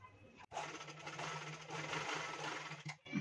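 Sewing machine stitching a strip of blouse fabric runs in a steady close whir for about three seconds, briefly stopping near the start and end, with no voices.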